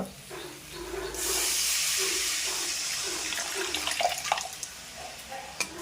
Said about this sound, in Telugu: ఇప్పుడే మనము చింతపండు నీళ్ళు కూడా పోసేసుకుందాం అనమాట